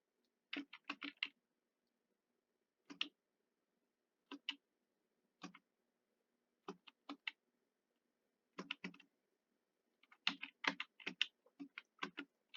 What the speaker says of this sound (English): I'm sorry if like the button clacking is obnoxiously loud